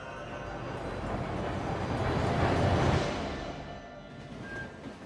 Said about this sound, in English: This is how you travel by train, zipped along at a bracing 25 kilometers per hour